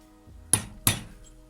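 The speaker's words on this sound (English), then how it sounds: "I'm going to use the bottom face as a very small hammer, and I'm going to strike with that" The face of a bolt strikes a rivet resting on steel pipe twice in quick succession, each tap a sharp metallic clink, close and otherwise quiet.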